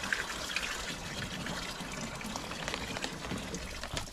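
Water runs steadily into a household washing machine being filled, a continuous pouring and splashing wash that stays fairly even for the whole stretch, close by and unbroken by talk.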